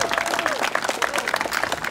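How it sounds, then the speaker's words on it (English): Audience clapping for a state senator at a zoo's reopening event, a steady dense patter of many hands lasting about two seconds, with a voice talking over it. "Senator Barrow, let's give her a round of applause."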